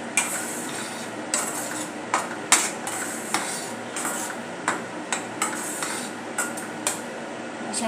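A spoon stirs tomato masala paste in a pan, giving a steady run of sharp metallic scrapes and knocks, about one every half second, over a soft low sizzle.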